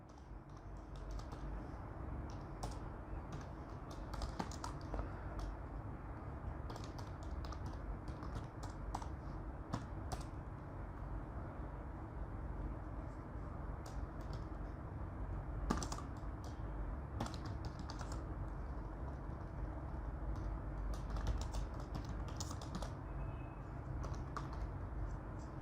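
Keys clatter on a computer keyboard while text is entered into a Word document, an irregular stream of soft clicks and taps with occasional louder strokes, heard close over a steady background hiss.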